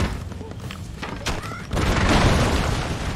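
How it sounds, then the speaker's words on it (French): Explosions in the BroForce video game go off as a dense, booming blast partway through that holds at full loudness to the end, following lighter thumps and game noise. "explosion à la noix"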